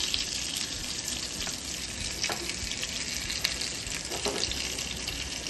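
Bangda mackerel pieces fry in hot oil in a pan, a soft continuous sizzle with occasional crackles and faint clinks, fairly close and quiet, no talking.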